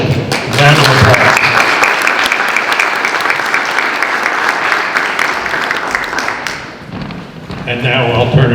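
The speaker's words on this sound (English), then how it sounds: "Round of applause." A crowd applauds loudly and steadily for several seconds, the clapping fading slightly before a burst of talk and clapping returns at the end.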